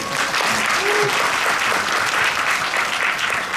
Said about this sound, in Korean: 마케팅 팀에게 박수 한번 보내주시고